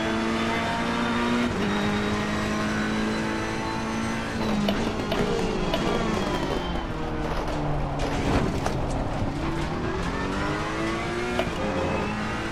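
A Ferrari 488 GT3 race car in Assetto Corsa Competizione at Spa, its engine droning loud and steady throughout, with rising and falling pitch sweeps as it brakes through a chicane and accelerates back onto the power.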